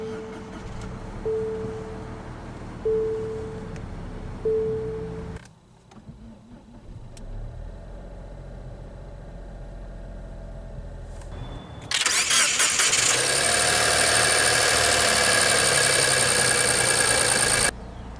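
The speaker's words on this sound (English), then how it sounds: "let's go ahead and start the engine, and it does have push-button ignition" A 2023 Nissan Rogue S AWD with push-button ignition cranks and catches after some beeps and clicks, then settles into a steady, fairly loud idle with a constant hum.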